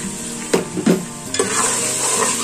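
Chopped mint and coriander fry in hot oil for moong dal khichdi, a loud steady sizzle punctuated by a few scraping stirs of a spoon in the pan.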